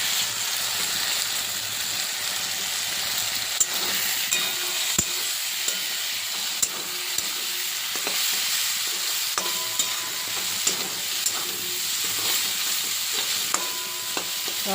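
Chowmein ingredients stir-fried with soy sauce and tomato sauce, a loud continuous sizzle and hiss with repeated metal spatula scrapes and knocks against the pan at a steady, unhurried pace.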